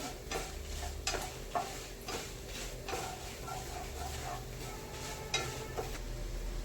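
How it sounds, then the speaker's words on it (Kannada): Chana dal and urad dal frying in a pan over low heat, a soft steady sizzle broken by regular scraping stirs and light clicks of a spoon against the pan, close up. "ಒಂದು 5 ಮಿನಿಟ್ಸಿಗೆ ಫ್ರೈ ಮಾಡ್ಕೊಳ್ಳೋಣ"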